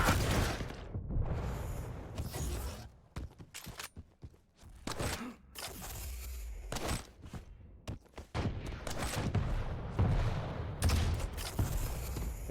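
Rocket launcher fire in a competitive arena shooter match, a rapid series of sharp blasts and explosions in irregular bursts, loud and close, with mechanical clicks between shots.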